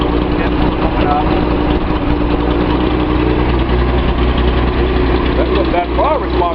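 Six-cylinder L28 engine in a Nissan 280Z with a misfire, running steadily close by with a constant rumbling drone and slight throttle variation.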